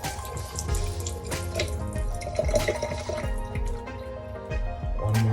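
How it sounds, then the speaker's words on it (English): Hot water poured over ackee in a kitchen sink or basin to rinse it, a steady splashing, dripping stream running close and continuously. "pour some hot water on that now, close it back, just rinse it again"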